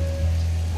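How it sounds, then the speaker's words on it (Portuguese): Rain beginning to fall on a farm field, a steady, continuous patter that fills the whole moment at moderate loudness, mixed with a low rumbling background and no voices. "Tem chuva!"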